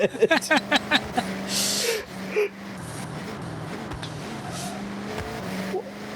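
A racing video game car drives hard with tires squealing, a droning engine tone shifting pitch over several screechy skids after a few sharp bursts at the start, with a brief gasp early on.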